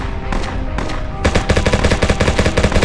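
Rapid automatic gunfire blasts at zombies in a video game, loud and close, with a few separate shots first, then a dense, steady burst of fire.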